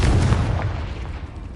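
A Confringo blasting spell explodes in Hogwarts Legacy: one loud, close, booming burst that rumbles and slowly fades over about a second and a half.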